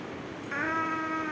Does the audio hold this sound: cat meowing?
yes